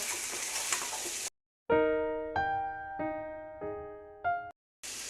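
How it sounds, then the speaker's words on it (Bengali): Chicken pieces frying with grated garlic in a pan on a low flame give a bright, hissing sizzle for just over a second. It cuts to a run of clear, ringing musical tones, and the sizzle briefly returns at the very end. "এরই সঙ্গে দিয়ে দিচ্ছি চিকেনগুলো দিয়ে আমরা একটু ফ্রাই করে নেব"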